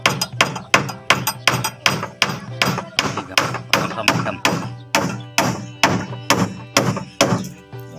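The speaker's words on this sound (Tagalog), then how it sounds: "Tapos lagyan lang ng pako para didikit na siya." A hammer drives nails into a wooden fishing boat under construction in a steady, loud, close run of evenly spaced blows, about two per second, with the wood ringing after each strike.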